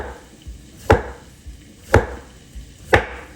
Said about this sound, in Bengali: ওই জন্য লাউটা কুচিয়ে নেব।